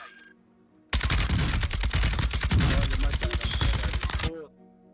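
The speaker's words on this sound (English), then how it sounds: "Friendly mortar strike on the way" A friendly mortar strike in a shooting video game lands as a dense barrage of rapid, loud booms and cracks, running for about three and a half seconds after a quiet start and then cutting off abruptly.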